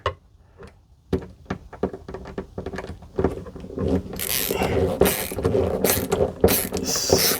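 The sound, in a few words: screw being driven into drywall for smoke detector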